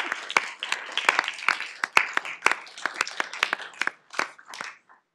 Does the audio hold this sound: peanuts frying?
no